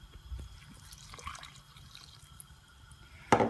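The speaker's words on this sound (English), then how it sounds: "I'm going to add in the water." Water is poured over dried porcini mushrooms in a kitchen: soft trickling and dripping, then a louder splash near the end, with no talking.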